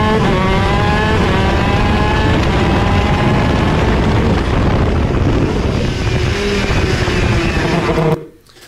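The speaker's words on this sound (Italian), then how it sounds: "ascoltate quante marce tira su" Racing car engine screaming at high revs, shifting up quickly through several gears with rising pitch after each change, loud and continuous until it cuts off abruptly at the end.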